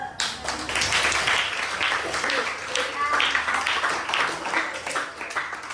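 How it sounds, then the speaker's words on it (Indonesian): Classroom of students clapping hands together during a lesson, a dense, steady patter of many claps lasting several seconds with some voices mixed in. "Tepuk tangan dulu."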